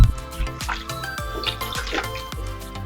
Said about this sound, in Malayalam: നമുക്ക് ആവശ്യത്തിന് വെള്ളം ഒഴിച്ചു കൊടുക്കാം.